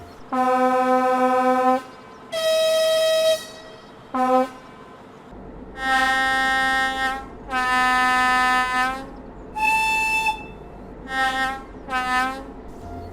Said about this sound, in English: Here is a demonstration of the horns and the air whistles.